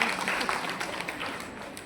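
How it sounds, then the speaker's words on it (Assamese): Applause from the audience at a poetry festival, a short steady wash of clapping at moderate distance that holds evenly for its whole length. "তালি এটা মাৰি দিয়ক"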